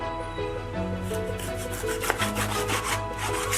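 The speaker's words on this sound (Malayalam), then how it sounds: "ഇനി നമ്മൾ ഇത് കട്ട് ചെയ്തെടുക്കാൻ പോവാണ് കഷ്ണങ്ങളായിട്ട്." A knife saws through a 1.5 kg pomfret fish, cutting it into pieces with rasping strokes that grow denser and louder toward the end. A constant low hum runs underneath, and no one talks.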